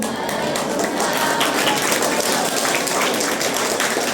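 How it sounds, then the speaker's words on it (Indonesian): Sustained, dense applause from the audience at a Grade 6 farewell ceremony at an elementary school in Surabaya, steady and fairly loud throughout with no pauses. "Tepuk tangan yang luar biasa kepada Anindya"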